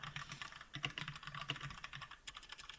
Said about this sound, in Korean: 제가 지금 아마 영상에서 타자 소리가 엄청나게 들리실 거예요